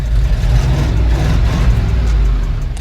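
A stock 302 V8 truck engine holds a steady, rough idle close by, a continuous low rumble throughout with no talking; the truck has an exhaust leak and is prone to backfiring.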